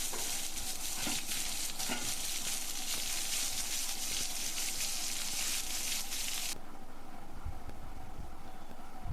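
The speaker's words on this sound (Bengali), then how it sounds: "খুন্তি দিয়ে ভালোভাবে নেড়ে চেড়ে ভেজে নিতে হবে" A spatula stirs bottle gourd with katla fish head as it fries in a pan, giving a steady sizzle with scraping strokes throughout, close and alone.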